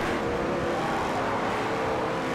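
GT race cars in Forza Motorsport 4 during a multi-class LMP2 event, a steady loud engine drone with cars passing and holding speed, no voices.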